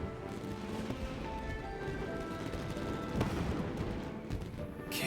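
Fireworks show in the video game Genshin Impact: a dense, continuous crackle and rumble of bursts filling the clip, with a sharper bang near the middle, steady and moderately loud throughout.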